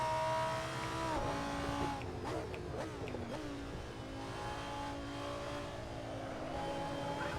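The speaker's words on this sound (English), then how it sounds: "This car does sound good at the limit." A sim racing car engine in the SuperTrofeo series at Spa-Francorchamps drones at high revs throughout, pitch rising and dipping through gear changes, with a brief tire squeal along the way.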